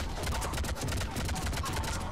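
Rapid gunfire bursts from a Mass Effect 3 firefight crackle in a dense, repeating stream, loud and continuous for the brief moment.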